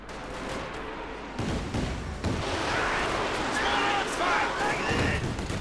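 Katyusha rocket artillery fires in Company of Heroes 2, with loud bursts and rumbling launches. Battle noise overlaps and someone talks over the top.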